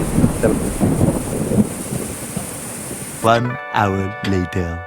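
A sudden thunderstorm with heavy rain and strong gusting wind at a park in Rajoir, Madaripur, roars as a dense wash of rain and wind noise for about three seconds, then people talk over it.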